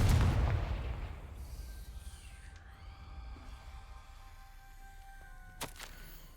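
A Confringo spell bursts in Hogwarts Legacy, opening with a loud booming blast that rings and fades into a faint metallic shimmer, followed by a small sharp crack near the end.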